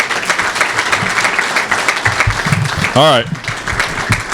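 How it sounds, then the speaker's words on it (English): Audience applause for a newly introduced athletics director's family at a university press conference, a broad wash of clapping under speech, with a brief voice saying a few words. "Please give my family a round of applause."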